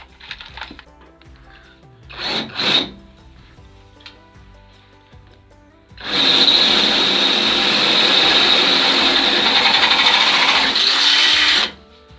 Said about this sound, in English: just open that hole up with the correct drill